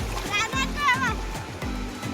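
Children shout and laugh while sea water splashes around them in quick bursts, close by and lively, at Murud Beach.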